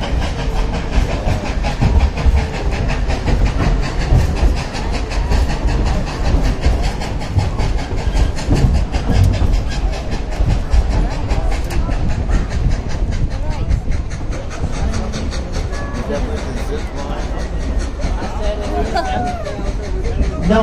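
The Dollywood Express train rolls along the rails with a continuous close rumble, rhythmic wheel clatter and hiss, and voices are faintly heard over the steady movement.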